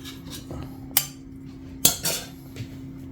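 Boneless chicken stirred in a cooking pot: quiet metallic scrapes and two sharp clinks of a utensil against the pot over a low steady hum.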